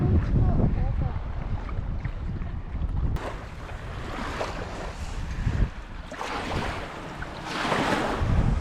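Wind buffets a boat at sea off Dampier, Western Australia, a steady broadband rush with surging gusts and water noise, loud and close throughout, with faint voices underneath.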